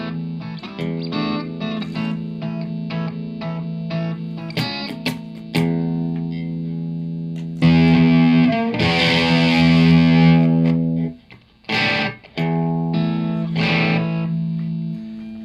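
Distorted electric guitar plays tight, chugging palm-muted riffs, broken by brief pauses and a few ringing sustained chords.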